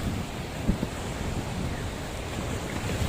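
Sea waves wash steadily against a debris-strewn shore in Real, Quezon, with gusting wind buffeting close by in a continuous, even roar and no voices.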